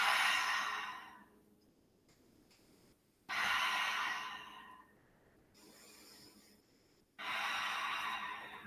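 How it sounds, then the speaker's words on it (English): Slow, deep breathing during yoga practice, with three loud, airy exhalations spaced a few seconds apart and quieter pauses between them, close and clear. "Breathe."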